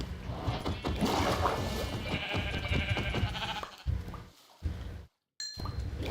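Sheep bleat repeatedly in Minecraft over a busy game soundscape with clanks and a chime, ending in a brief silence.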